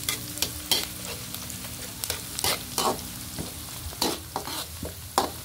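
Chopped garlic and onion sizzle in hot oil for a ground pork dish, with steady frying crackle broken by repeated scraping strokes of a spatula stirring the pan, close and alone.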